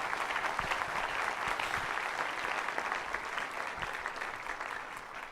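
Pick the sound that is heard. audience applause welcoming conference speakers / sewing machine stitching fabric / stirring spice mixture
audience applause welcoming conference speakers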